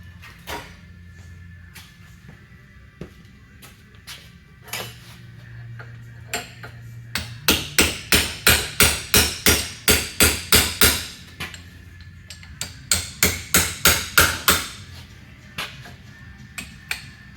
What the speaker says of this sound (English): I'm going to get a chisel and we're going to move the pinion seal.